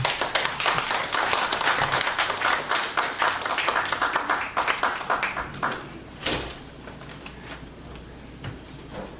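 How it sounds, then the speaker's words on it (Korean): Applause from a church congregation welcoming a pastor at a book-launch thanksgiving service, a dense run of individual claps that thins out and fades to a few scattered claps near the end. "박수로 우리 환영하시겠습니다."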